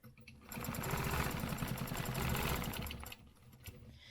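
A sewing machine runs steadily for a few seconds while stitching a curved stencil line along a ruler, a fast rhythmic mechanical whirr with quieter handling noise before and after.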